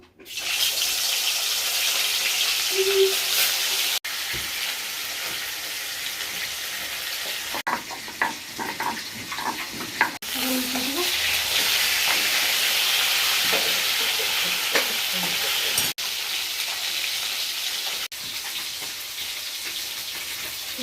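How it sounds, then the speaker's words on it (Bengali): Fish sizzling in mustard oil with garlic and chilli, a continuous bright hiss with occasional clicks and knocks, close up, a few brief sounds of movement but no speech. "সর্ষে তেল দিয়ে দেবো, লঙ্কা 2 কোয়া রসুন দিয়েছি, বেটে নেবো। মাছটা ছেড়ে দেবো।"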